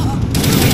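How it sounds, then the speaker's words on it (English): Gunfire in Call of Duty: Black Ops, a loud, continuous wash of shots and battle noise running through the whole short stretch, with a dense burst swelling partway in. "A lot of shooting involved."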